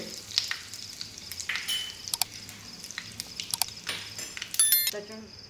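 Mustard seeds and a pinch of asafoetida crackle in hot oil in a pan, an uneven close sizzle with sharp pops and metallic clinks of a spoon against the vessel, and a voice speaks faintly underneath.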